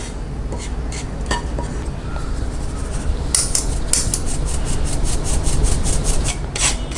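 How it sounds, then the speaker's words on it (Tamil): Roasted flour being sifted through a metal sieve in a home kitchen while making Mysore pak, a steady close scraping and rubbing with a few sharper taps on the rim, with no talk. "சலித்து நம்ம எந்த கட்டியும் இல்லாமல் எடுத்துட்டோம்"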